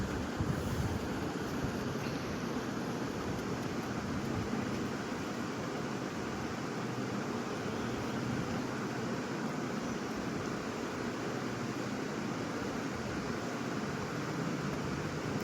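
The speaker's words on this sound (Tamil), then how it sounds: "இது போல் கொஞ்சம் கொஞ்சமாக உருட்டின உருண்டைகளை சேர்த்து பொரித்து எடுத்துக்கலாம்." Gulab jamun dough balls fry in hot oil for Diwali, giving a steady, even sizzling hiss that stays close and constant throughout, with no speech.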